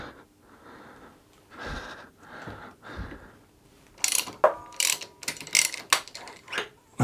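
Ratchet clicking on the fork cap nut of a Harley-Davidson Sportster during fork teardown. Quiet handling noises come first, then bursts of sharp, close ratcheting clicks in short runs.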